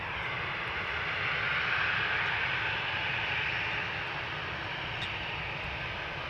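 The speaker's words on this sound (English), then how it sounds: "Another 737. KLM flight 1155 going to Gothenburg. 737-700, 12 years old." A twelve-year-old KLM Boeing 737-700 bound for Gothenburg gives off a steady, even jet roar at Amsterdam Schiphol, moderately distant and unbroken, with nobody talking.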